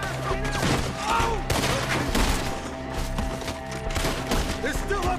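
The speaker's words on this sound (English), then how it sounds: "Shoot the ones up there first." Dense gunfire rings out in a Red Dead Redemption 2 woodland shootout, overlapping rifle and pistol shots in a steady loud barrage with faint voices mixed underneath.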